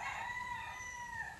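A rooster among pet chickens at a rural hut crows once, a clear drawn-out cock-a-doodle-doo held with a rising and falling pitch, moderately close with no talking.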